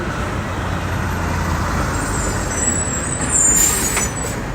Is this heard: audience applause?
no